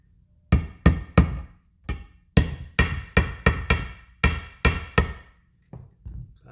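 Repeated hammer strikes pound a fret into the neck of a homemade cigar box guitar, about a dozen sharp, ringing metallic blows in an irregular rhythm, close and loud, with no talking.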